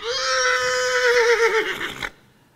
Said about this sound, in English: So he hears other horses